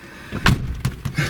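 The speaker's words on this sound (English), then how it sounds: "Actually, not a bad door close sound." The door of a low-mileage Chrysler Fifth Avenue sedan shuts with a solid, close thump, then a couple of softer latch knocks and clunks follow in quick succession.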